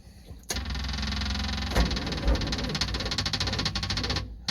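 A small two-stroke car engine, such as a Subaru 360 or DKW, revs hard close by in a shop, holding a loud, buzzy, rattling drone for several seconds before cutting off.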